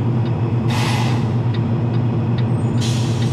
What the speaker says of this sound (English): Guess I'll wait on this truck coming through